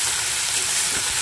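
Onion and ground chili masala frying in a pan for a papaya and dried prawn dish, a loud close sizzle and crackle as it is stirred, with no one speaking.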